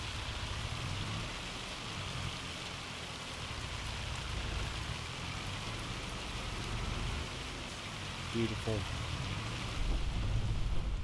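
Loud, steady rain in the video game Farming Simulator 25 keeps up a dense, even hiss throughout, with a brief low rumble near the end and someone speaking briefly over it.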